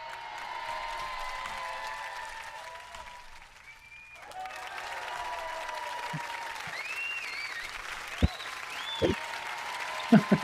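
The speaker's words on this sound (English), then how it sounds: "Yeah, the applause." Light applause from an online audience, faint and steady, with brief voices and small knocks mixed in.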